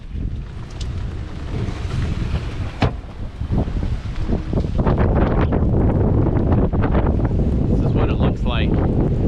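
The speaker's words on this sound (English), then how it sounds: "I'll probably have to voice over this because of the wind" Strong wind buffets the microphone on a sailboat heaved-to offshore with a triple-reefed main, a loud rushing roar with water and rigging noise beneath.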